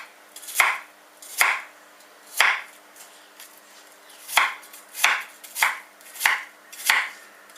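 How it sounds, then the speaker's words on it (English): Apples chopped on a board for apple crumble: eight sharp, close knife strikes at an uneven, quick rhythm with brief quiet gaps between, no talking. "So I'm just going to chop them quickly."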